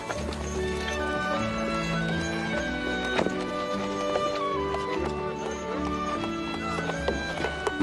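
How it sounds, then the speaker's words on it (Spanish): A horse's hooves clip-clop in a steady rhythm under continuous orchestral music, outside a place where the horse is brought to have a horseshoe replaced. "Hay que cambiarle una herradura a mi caballo."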